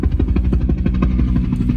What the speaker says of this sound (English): There's helicopters going above us somewhere